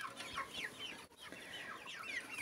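Young broiler chickens cluck steadily in quick, high chirping bursts, close by and continuous, with soft background noise and no voices.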